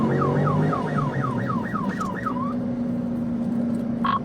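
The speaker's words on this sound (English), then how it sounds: "Deputy Meeks activated his lights and sirens to initiate a traffic stop" A police car's siren wails in rapid repeating yelp cycles during a traffic stop, heard over steady road and engine rumble, then cutting off and leaving only the drone of the moving vehicle.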